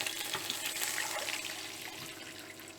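Beef stock pours steadily into a roasting pan, a close, continuous splashing of liquid that eases off slightly toward the end, with no voices.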